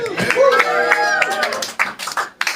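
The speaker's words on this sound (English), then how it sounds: "Give yourselves a clap." Audience at an open mic comedy show clapping in a short burst while a performer keeps talking loudly over it.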